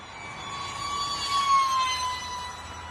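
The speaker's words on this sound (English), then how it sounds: "She's a quick little airplane." A UMX A10 RC model jet airplane makes a full speed pass, a steady high-pitched electric ducted fan whine that swells as it nears and then fades, heard alone outdoors.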